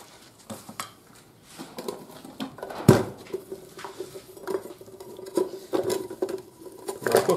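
Light metallic clinks and taps of a small camping cooking pot being handled and set down, scattered irregularly, close by and fairly quiet.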